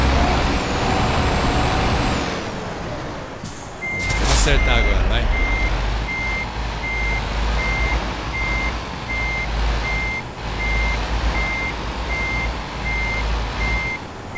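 Heavy truck reversing into a parking spot in Euro Truck Simulator 2, Southern Italy, with a steady train of evenly spaced reverse beeps over a low diesel rumble and an air-brake hiss early on, while someone talks over it.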